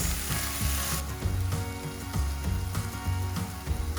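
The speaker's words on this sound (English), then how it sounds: "get this all cooked down just a little bit more" Food cooks down in a pan with a steady close sizzle and frying crackle, broken by stirring scrapes and small clatters, no voices.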